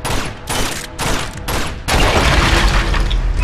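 Gunfire in Uncharted 2: Among Thieves, loud close bursts of rapid shots in several separate volleys, then a denser rumbling barrage of continuous fire and booms.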